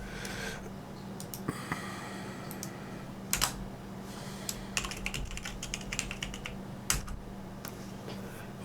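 Computer keyboard typing a git clone command, rapid close clicking keystrokes in uneven bursts with a few louder key presses and short pauses, no talking.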